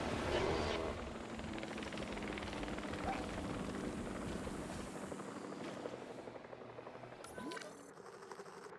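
A jet transit aircraft in the Jurassic World Evolution 3 video game roars past with a loud rotor-like engine drone that slowly fades, ending with a brief mechanical whine and clunk.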